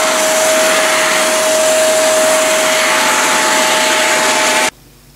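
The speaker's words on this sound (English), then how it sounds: "take a vacuum cleaner and clean up the dust that may have settled inside your machine" A vacuum cleaner roars continuously at close range with a steady whine while sucking dust from inside a Roland KR 370 digital piano, then cuts off abruptly near the end, leaving near silence.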